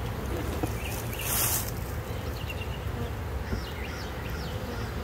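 Honeybees buzz steadily around an open hive during a package colony inspection, a dense low hum outdoors with some wind, fairly faint and continuous.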